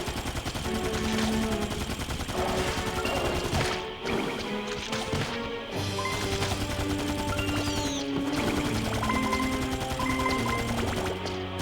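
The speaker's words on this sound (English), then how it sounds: "Machine guns, go!" Machine gun fire in a video game, fired from a ride pod: dense, sustained bursts of rapid shots that run almost continuously, with brief pauses and game music underneath.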